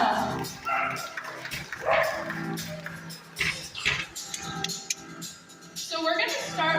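A border collie barks and yips in short bursts at a live dog show, mixed with crowd noise and a voice talking over it.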